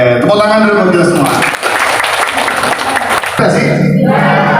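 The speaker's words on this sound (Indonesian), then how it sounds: "tepuk tangan dulu buat kita semua" Indonesian audience at a schizophrenia psychoeducation session applauds together, a dense burst of clapping with crowd noise and voices that swells, holds for a few seconds, then gives way to a voice speaking.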